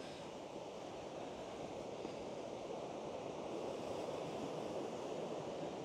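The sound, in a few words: Lumsdale waterfall flowing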